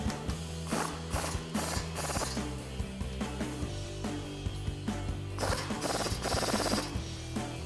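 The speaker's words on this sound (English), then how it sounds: "grab a 21mm socket and tighten those down" Rapid clicking of a ratchet with a 21mm socket tightens caliper bracket bolts on a 2018-2020 Ford F-150, running in bursts of quick pawl ticks with short pauses between strokes.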